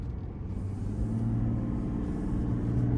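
A 2025 Chevy Tahoe RST with a Duramax turbo diesel drives along, its steady low engine drone and road rumble filling the cabin at an even, moderate level with no talk.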